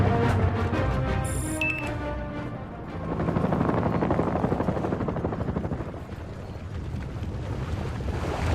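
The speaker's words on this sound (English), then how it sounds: "That's our chopper!" A military helicopter in the Battlefield: Bad Company video game roars with rotor chop and rushing wind, beginning with sharper game sounds before swelling into a loud, sustained whirring wash.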